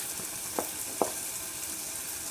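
Steady, fairly quiet sizzle from hot tempering for idli sambar with tamarind pulp as pumpkin, carrot and other vegetables go in, broken by two brief clacks.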